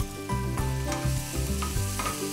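Onion fries with a pinch of turmeric in a pan, a short burst of close sizzling broken by rhythmic spatula scrapes and tapping, with no voices.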